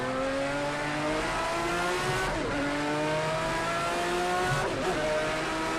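A Group C race car in the Project CARS 2 video game screams loudly at high revs, climbing steadily through the gears with two clear gear-change breaks, continuous and close.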